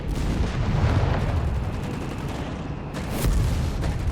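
Stuka dive bomber attack in Company of Heroes 3, a dense rumble of booming explosions and gunfire with a louder blast burst near the end, continuous and heavy.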